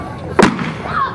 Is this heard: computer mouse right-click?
no